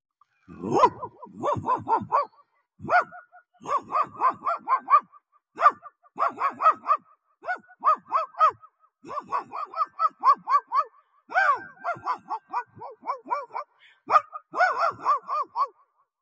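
Someone imitates an old dog's barking, producing repeated hoarse woofs in quick clusters with short gaps, near and steady throughout.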